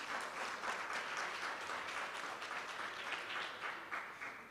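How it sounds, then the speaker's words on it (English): Applause from an audience at a National Certification Body of Jamaica event, dense sustained clapping from a crowd, even and moderately loud, fading slightly at the end. "Please give them a round of applause."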